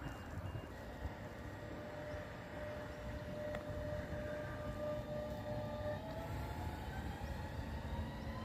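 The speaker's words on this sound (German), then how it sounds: "da kommt der Güterzug auch schon" A freight train hauled by a VTG Retrack Vectron locomotive rolls through a Franconian station: a continuous, even rumble of wheels and wagons with faint high squealing tones, heard from a moderate distance with no voices.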